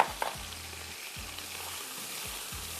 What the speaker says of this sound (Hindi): और प्याज, एक कप प्याज डाल।